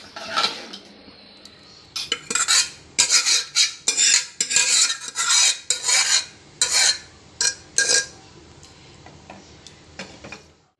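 A spoon stirs and mixes palak spinach bhaji in a metal pan, producing a run of close, loud scraping and clinking strokes in an irregular rhythm with short pauses, no voices.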